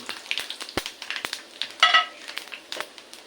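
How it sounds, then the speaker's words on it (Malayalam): Fennel seeds hit hot oil in a pan and sizzle with quick, close crackles and pops at an irregular rhythm, flaring louder at one point, with no talking. "ചൂടായി വരുമ്പോൾ അതിലേക്ക് കുറച്ച് നമ്മൾ പെരിഞ്ജീരകം ചേർക്കും."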